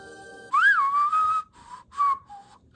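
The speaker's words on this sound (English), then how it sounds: "he tries to whistle" A man whistles a short, wavering tune of a few notes in two bursts, fairly clear and close, with no talking.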